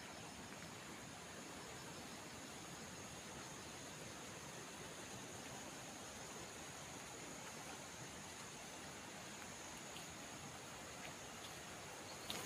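A mountain stream at Cửa Tử flowing steadily, a soft, even wash of rushing water with no voices and no change in level from start to end.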